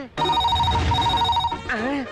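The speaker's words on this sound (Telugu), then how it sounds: "ఫోన్ మోగేసింది" A telephone rings with a steady electronic trilling tone, loud and close, repeating in two bursts, with a brief voice-like warble at the end.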